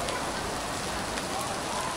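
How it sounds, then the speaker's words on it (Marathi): Steady rain pours down beside a temple with a small waterfall in the forested hills near Badlapur, a continuous broadband hiss holding even and close with no distinct drops standing out. "पाऊस चालू आहे"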